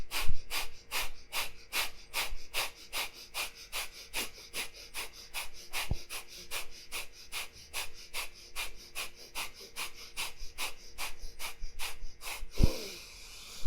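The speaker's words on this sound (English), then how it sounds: "breathing in and out, pumping the stomach." Rapid, forceful breath-of-fire yoga breathing with the stomach pumping, steady sharp exhales repeating about three per second for over ten seconds, close and alone, ending in one deep inhale.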